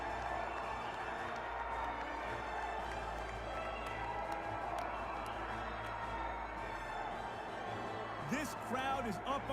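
A large arena crowd from the boxing film Creed roars and cheers steadily throughout, a dense sustained wall of noise with scattered shouts, growing busier near the end.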